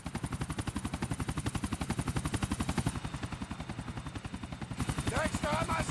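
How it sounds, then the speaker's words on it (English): A helicopter's rotor in the video game Grand Theft Auto IV thumps in a fast, loud, steady rhythm throughout, with a brief burst of other game sounds near the end. "Here comes the damn helicopter."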